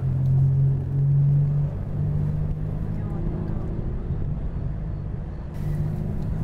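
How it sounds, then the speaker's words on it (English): A Mazda 6 race car at Mazda Raceway Laguna Seca gives off a loud, steady low engine drone that stays fairly constant, with a slight dip partway and no clear rise in revs. "We're at Mazda Raceway Laguna Seca in a Mazda 6."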